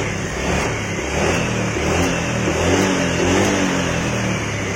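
A Honda Vario 125 FI scooter engine, previously sputtering and hesitant on throttle, revs steadily and continuously close by with a responsive throttle, its mid-pitched buzz holding at a fairly even level throughout.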